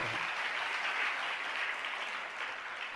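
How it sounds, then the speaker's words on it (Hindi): An audience at a religious discourse applauds, a soft, even wash of many hands clapping that stays steady and fairly distant for the whole stretch. "आप लोगों ने ताली बजा दिया"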